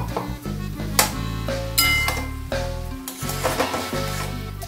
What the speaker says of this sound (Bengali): এবারে আমি পেস্ট করা মশলাটা এর মধ্যে অ্যাড করে দিলাম।